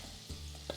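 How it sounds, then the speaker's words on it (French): Butter sizzles and fries in hot olive oil in a pan, a steady, faint crackling hiss with small pops near the end, no voices. "j'ai déjà l'huile d'olive qui chauffe de ce côté-ci. Je vais ajouter du beurre."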